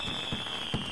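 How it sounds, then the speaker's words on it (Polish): Fireworks popping in the video game What's Under Your Blanket, a few soft, brief bursts over a steady high-pitched tone from the game audio. "Znowu fajerwerki."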